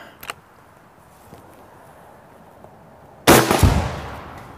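A powerful PCP air rifle fires in the woods: one sharp, loud report cracks out after a long stretch of quiet outdoor ambience, following a fainter pop near the start.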